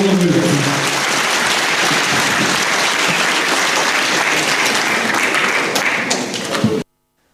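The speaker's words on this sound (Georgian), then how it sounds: "ქუხარი აპლოდისმენტებით მიეგება შიდა ქართლი გორი გიორგი კანდელაკს" Loud, thunderous applause from a large crowd at a rally in Gori, Shida Kartli, Georgia, a dense steady roar of clapping lasting several seconds before cutting off abruptly.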